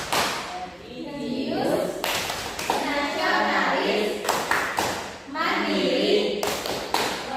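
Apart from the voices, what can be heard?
children's rhythmic clapping chant (tepuk PPK)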